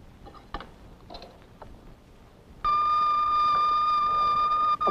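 Personal pager signalling a call from the office in a 1961 film scene, a sustained shrill electronic beep that starts abruptly midway and holds steady, after a few soft clicks and faint room sounds.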